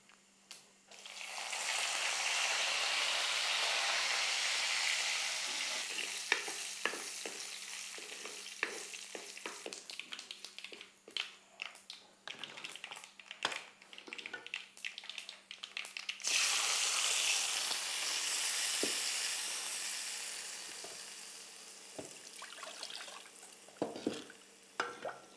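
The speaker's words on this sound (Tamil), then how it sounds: "குழம்பு நல்லா கொதிக்குது பாருங்க" A pot of crab curry boils and sizzles steadily, with intermittent stirring and scraping clatter in the middle before the bubbling hiss returns.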